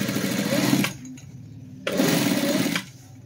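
A sewing machine stitches a shirt collar in two close bursts of rapid, even clatter. A short quieter pause separates them.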